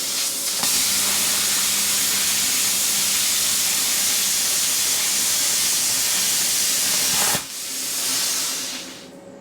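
A Yes Welder plasma cutter slicing through 2.5 mm metal: a loud, continuous roaring hiss held for several seconds, then cutting off abruptly into a softer trailing air hiss.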